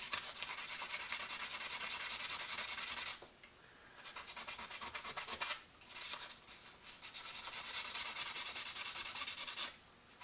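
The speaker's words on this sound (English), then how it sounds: "I'm going to just work on the knife itself with some 220." Coarse back-and-forth rubbing of 220-grit sandpaper against a knife, loud and steady in long strokes with brief pauses between passes, no talking.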